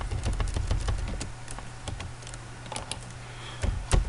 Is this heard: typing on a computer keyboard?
yes